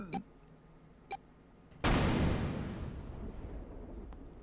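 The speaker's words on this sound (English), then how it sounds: "The explosion rocked the room" A single sudden, loud explosion erupts after a couple of faint ticks, then a long roaring rumble decays slowly across several seconds.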